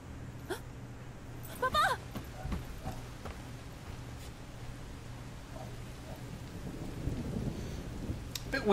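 Steady rain falls in the video game Sifu, a soft continuous wash with a couple of brief faint rumbles of thunder and scattered louder drops near the end.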